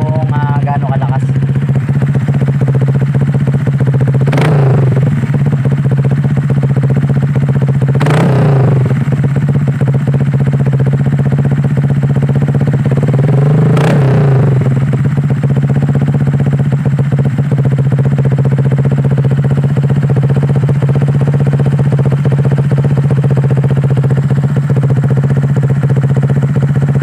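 A Honda Click 150i scooter fitted with an SC Project exhaust idles with a loud, steady drone, broken by three sharp throttle blips that rise and fall quickly, heard up close.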